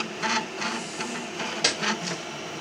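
A CoreXY 3D printer with a high-performance Bowden extruder printing at moderate speed, giving a steady whirring hum with rapid rhythmic stepper-motor pulses, close by and fairly quiet.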